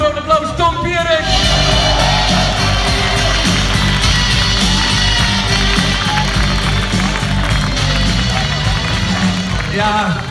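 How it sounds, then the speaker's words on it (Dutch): Crowd cheers, shouts and claps for football player Tom Pierik on a festive float, loud and continuous, with music and yelling blended into the noisy celebration. "geef hem een groot applaus, Tom Pierik"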